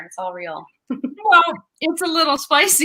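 Sweet Potato, a pet cat, lets out a drawn-out meow near the microphone during a live reading event, with people talking around it.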